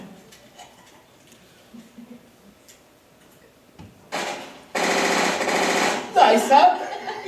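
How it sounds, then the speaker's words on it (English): A string of small homemade firecrackers goes off in a rapid crackling burst, loud and close, following a stretch of quiet room tone and faint talk. "Look, Penny, what do you think of these new little firecrackers we just made?"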